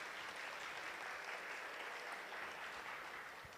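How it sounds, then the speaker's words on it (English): An audience at a Sunday evening temple program gives a round of applause for new devotees, steady, even clapping from many people that holds throughout and eases slightly at the end, heard at a modest level. "Let's give a big round of applause,"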